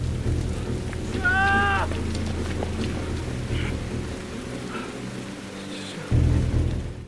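Heavy rain falls at night, a dense steady hiss with a low rumbling undertone that continues throughout, with a brief tonal cry near the start and a sharp thump late on.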